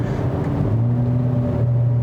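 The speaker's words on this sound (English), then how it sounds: "give us an exhaust that makes those kind of burbly, crackly, farty noises" A 2022 Hyundai Elantra N turbo sport compact sedan gives a loud, close, low engine drone from its exhaust that settles into a steady burble, with no distinct crackles standing out.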